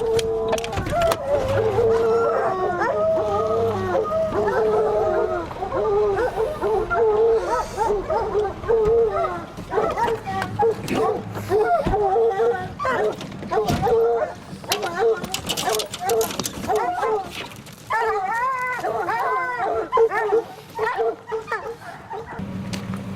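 Hunting dogs bay and howl on a bear hunt, a steady chorus of repeated barks and drawn-out howls filling the whole stretch, fairly close, with occasional human voices breaking in.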